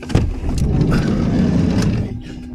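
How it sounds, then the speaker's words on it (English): A car drives around nearby at night in the dark near a campsite, its low engine rumble steady and fairly loud throughout, with brief voices faintly present. "There's a car pissing about up there."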